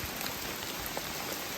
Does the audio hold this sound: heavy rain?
yes